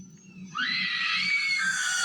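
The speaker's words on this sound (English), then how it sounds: "A scream that sounded as though someone was being attacked or feared for their lives echoed down the mountain." A woman's scream echoes down a mountainside from a distance, a sustained, wavering high cry rising abruptly and holding steady over a low background murmur.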